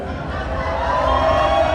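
A crowd at Disneyland cheers a passing cast member, a dense, steady wash of voices and shouts that swells slightly toward the end, with general chatter mixed in.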